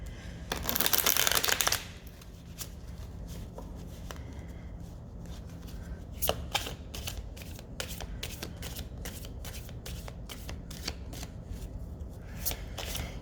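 Tarot cards riffled in a loud burst at the start, then cut and tapped in a long series of crisp, evenly spaced snaps close up, with no talking.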